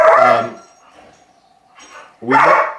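A dog barks indoors at close range, two short barks separated by a quiet gap with a faint whine in between.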